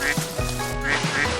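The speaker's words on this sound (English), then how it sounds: "Who's got a big splash and goes quack quack?" A cartoon duck quacks in a few short nasal calls over a busy layer of background music, the calls fairly close and clear against the steady bed.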